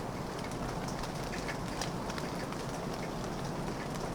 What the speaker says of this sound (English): Backyard Rain by Brian Dorsey, which is essentially just a recording of the rain from his backyard